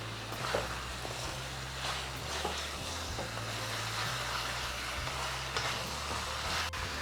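Quail pieces sautéing in a large pan for a South Indian quail fry, a steady soft sizzle with the scrape and clatter of stirring throughout, fairly quiet and close, with no talk.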